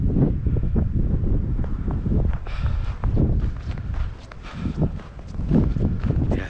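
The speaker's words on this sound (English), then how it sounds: "I can hear the wind whipping over my head." Wind buffets a microphone on an exposed mountain trail crest at Moosic Mountain Preserve, a steady low roar with gusts, mixed with the soft crunch of footsteps and no speech.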